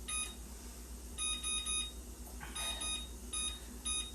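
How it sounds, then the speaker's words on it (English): A kitchen timer beeps in short clustered bursts of high electronic tones, repeating several times at close range, with a brief clatter in between against a steady low hum. "set a timer."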